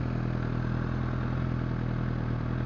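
A Suzuki GSX-R750 motorcycle fitted with a Fullpro aftermarket exhaust runs at a steady idle close by, giving a constant throbbing engine drone with no revving and no voices.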